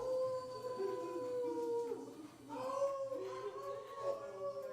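A pet dog, a pit bull, howling like a hound indoors, a drawn-out wavering howl that breaks and rises again, fairly close and moderately loud.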